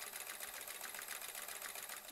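A sewing machine stitching hedgehog embroidery, its fast needle making a steady, even whirring hum up close, with no talking over it.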